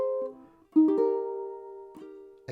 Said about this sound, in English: It just means that we're just going to very lightly touch the ukulele strings.